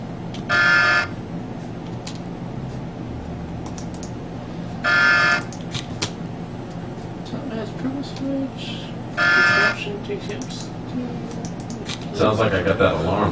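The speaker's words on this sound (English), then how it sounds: "Sounds like I got that alarm turned off." Game alarm from The Pandora Directive buzzing in three loud, evenly spaced bursts about four seconds apart, each lasting under a second, over a steady background with quiet talk.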